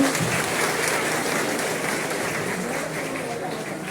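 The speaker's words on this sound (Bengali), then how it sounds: "জোরদার তালি চাই।" Applause from a crowd at a school inauguration, a dense, steady wash of clapping that stays loud and close throughout without pause.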